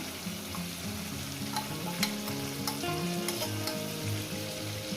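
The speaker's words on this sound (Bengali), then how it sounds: "মাংস থেকে চিকেনটাকে ভেজে নেব" Chicken frying in a pan for chicken curry, a steady close sizzle with stirring scrapes and occasional spatula taps, moderately quiet and unbroken.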